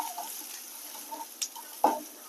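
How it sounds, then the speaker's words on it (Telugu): Onions frying in oil until brown give a faint, steady sizzle, broken by a few soft scraping stirs near the end, with no talking. "బ్రౌన్ కలర్ వచ్చేసరికి వేయించుకుందాం."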